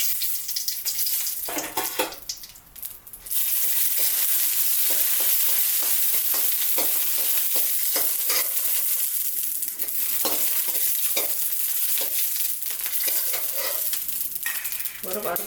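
Dried red chilies fry in hot oil for a hotel-style mudakathan keerai chutney, giving a steady, close sizzle with scattered crackles and stirring clinks and no talk.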